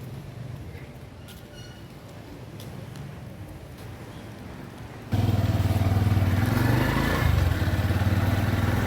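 A motorbike being wheeled out and started on a roadside near a busy highway, with quiet ambient rumble giving way at about five seconds to a loud, steady close-up engine idle with a brief rev.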